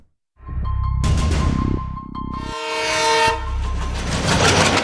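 A freight train rumbles loudly past on the railroad tracks, heavy wheel and wagon noise with a sustained multi-tone train horn blaring close by, with no talking.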